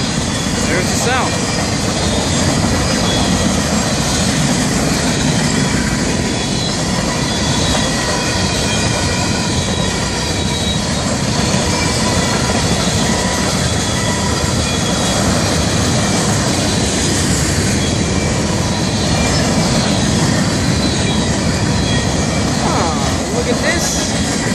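Florida East Coast freight train 202 rolling past with mixed boxcars, a loud sustained rumble and clatter of wheels on rail close by, with people talking over the noise.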